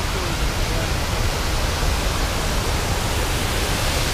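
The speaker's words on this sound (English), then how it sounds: "And here is an awesome waterfall." A large waterfall roars in an outdoor park plaza during a cherry blossom festival, a loud, steady broadband rush close by with no break.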